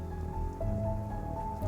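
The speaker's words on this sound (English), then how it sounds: "The rain is really coming down." Heavy rain in the video game Sovereign Syndicate, a steady hiss of falling rain under a low sustained musical drone, brief and moderately loud.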